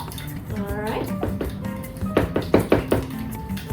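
Eggs beaten in a bowl in a home kitchen, with repeated knocking and clinking of a utensil against the bowl, loudest and quickest toward the end, while a person talks over it.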